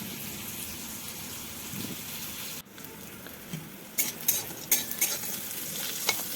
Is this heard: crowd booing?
no